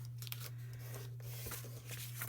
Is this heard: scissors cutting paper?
yes